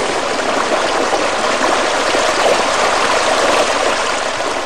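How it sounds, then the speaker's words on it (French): Steady, continuous rush of water flowing along a stream and irrigation canals below waterfalls near Sefrou, Morocco, a dense even burble filling the whole span with no voices. "le bruit de l'eau, c'est vraiment agréable"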